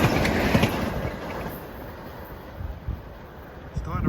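A Metro-North local train of Budd M3 cars approaches at Croton-Harmon, its rumble rising as a steady broadband roar with low rail thumps, wind buffeting the microphone throughout.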